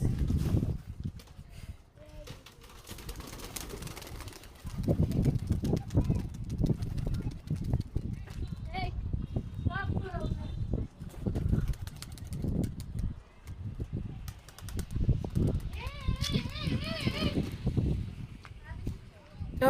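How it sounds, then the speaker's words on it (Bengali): Domestic pigeons let out from a home loft, with cooing and fluttering bird sounds rising intermittently over shuffling, footsteps and voices talking nearby. "এখন আমরা কবুতর ছাড়বো"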